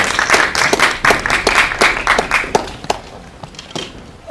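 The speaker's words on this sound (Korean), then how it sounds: "네, 박수 한번 부탁드립니다." Applause from the audience at a Korean film press screening, steady clapping from a room full of people that gradually thins out toward the end.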